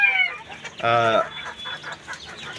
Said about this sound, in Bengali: তৃতীয়, চতুর্থ বেসের মুরগির বাচ্চা এগুলো